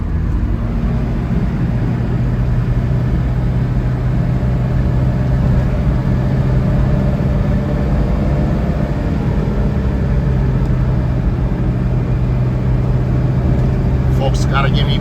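A 1973 Alfa Romeo Spider engine drops from fifth gear to third on the move, its close, steady low drone holding loud through the whole stretch with little change in pitch.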